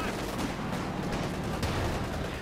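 Gunfire rattles through a 1v1 Company of Heroes 2 match, a dense, continuous spread of shots and distant blasts packed together with no pause, under battle noise throughout.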